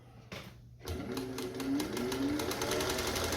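A restored Singer 201-2 sewing machine with a full rotary hook runs smoothly and steadily after a brief pause, its quiet even whir holding close and continuous with no talking.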